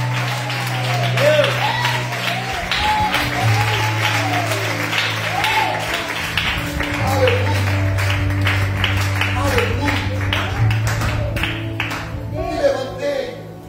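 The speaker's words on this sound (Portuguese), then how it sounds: "Só quem pode agora aplauda ao Senhor." A church congregation applauds in rhythmic, sustained clapping while sustained organ or keyboard tones play and a voice speaks and sings over it.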